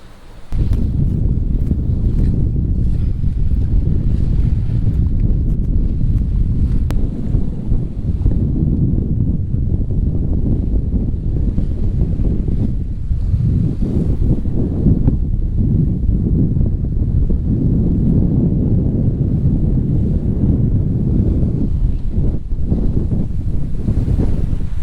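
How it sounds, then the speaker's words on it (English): A sailboat under way at sea between St Vincent and St Lucia, with steady wind buffeting the microphone and waves washing against the hull, a continuous loud rush throughout with no talk. "Been a very pleasant sail from St Vincent."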